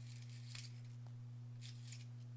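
Scissors snip twice, briefly and softly, while a swan-embroidered zipper pouch is being sewn, with a steady low electrical hum underneath.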